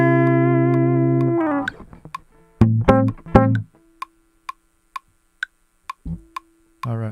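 Metronome click track in Ableton: after a sustained synth tone and a few chords, evenly spaced sharp clicks tick at a steady moderate tempo, clear and alone, with a low tone returning near the end.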